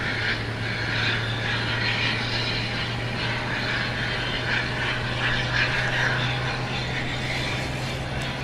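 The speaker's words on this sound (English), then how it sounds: "This plane again coming in from Jeju Island." A Korean airliner arriving from Jeju Island taxis at Gimpo International Airport in Seoul, a steady distant jet engine hum with a low droning tone, heard from an observation deck amid outdoor ambience.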